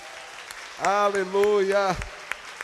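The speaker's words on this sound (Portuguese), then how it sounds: "Vamos aplaudir a Jesus." A church congregation applauds during an evening worship service, steady clapping running beneath a voice that calls out loudly over it.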